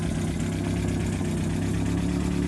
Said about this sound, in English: Powered by a simple four-cylinder engine, it was built to haul goods, tools, or people with ease.